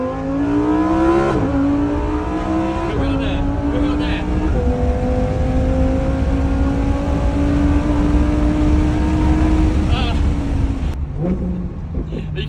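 A Lamborghini sports car accelerates hard on open roads on the Isle of Man, its loud engine climbing through gears in rising sweeps with brief dips between shifts, steady and close throughout.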